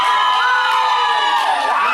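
A dense arena crowd at a wrestling show cheers and roars continuously, loud and sustained with shifting pitched shouts and whoops throughout.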